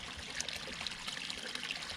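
Overflow water from a Japanese rice field trickles steadily into a small channel, a close, continuous babbling flow with light splashy detail and no voices.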